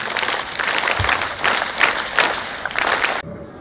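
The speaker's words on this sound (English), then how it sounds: "The HDFC claps go." Schoolchildren at The HDFC School in Pune clap together in unison, loud and near, with a patterned rhythm of bursts that stops abruptly, leaving a quiet room.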